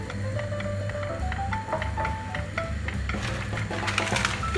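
Coarse salt is stirred into a pot of boiling water on the stove before spaghetti goes in, giving a steady bubbling roil with faint spoon scraping and light clinks against the pan.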